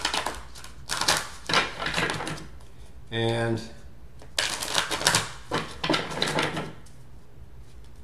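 A deck of tarot cards is shuffled by hand in several quick riffling bursts, close and crisp, separated by pauses, with a voice talking between them.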